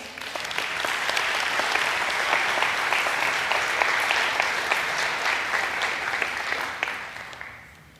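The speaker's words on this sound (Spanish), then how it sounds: "¿Le doy un aplauso al Señor por eso?" A church congregation claps during a pastor's sermon, a broad, sustained roar of applause that swells quickly, holds steady for several seconds, then tapers off toward the end.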